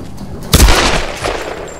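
Single gunshot headshot in Tomb Raider: Definitive Edition, a sharp loud crack followed by a short rumbling decay and a fainter echo-like burst a moment later.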